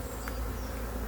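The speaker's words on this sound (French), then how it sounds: "une colonie qui va encore essaimer" A honeybee colony at its hive about to swarm in mid-June, a dense close buzzing hum of many bees filling the short moment without a break.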